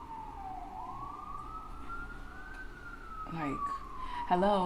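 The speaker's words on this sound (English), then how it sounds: "why is that siren still going off?" A siren wails outside, a long rising and falling tone sweeping steadily through the clip at moderate distance, with a person talking indoors over its final seconds.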